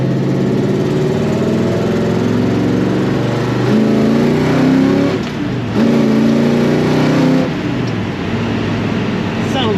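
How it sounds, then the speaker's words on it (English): A 1968 Pontiac GTO Convertible engine drones steadily in second gear at a low, even pitch, briefly easing and picking back up through a roundabout, heard from inside the cabin. "Let's go in the second gear for this roundabout."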